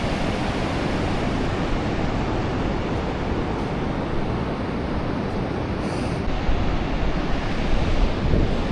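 Steady Pacific Ocean surf rolls onto a wide beach in a continuous, loud wash of noise, with wind buffeting the microphone throughout.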